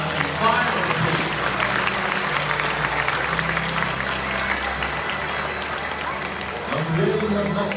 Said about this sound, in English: So let us now take a moment to give a round of applause to these amazing birds